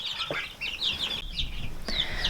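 Young chicks kept indoors in a laundry room, giving repeated high chirps and peeps close by, with soft shuffling and a couple of sharper knocks or flaps between calls.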